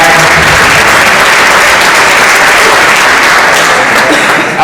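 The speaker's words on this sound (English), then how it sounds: "So if we could give a quick round of applause for all of our students here at" A large audience at a Radnor High School event applauds the students, a dense, loud wash of clapping that stays steady and continuous without a break.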